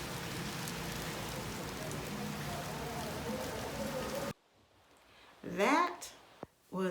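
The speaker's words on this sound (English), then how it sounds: "It's raining." Heavy rain pours onto a street during a storm, a dense, steady hiss for about four seconds, then cuts abruptly to a much quieter scene with a few brief louder sounds.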